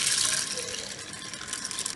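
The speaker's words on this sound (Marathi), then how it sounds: "ही चना डाळ चांगली धुवून घ्यायची" Running tap water gushes steadily over chana dal being washed in a kitchen, a continuous close splashing stream with no voices.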